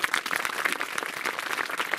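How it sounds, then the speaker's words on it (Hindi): Dense, steady applause from a large audience at a madrasa education programme, sustained clapping filling the whole moment at moderate loudness with no voices standing out. "जोरदार तालियां आप बजाओ।"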